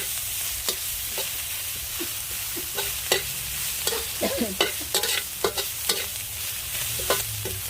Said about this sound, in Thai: ตั้งคั่วให้พริกสุกนะคะ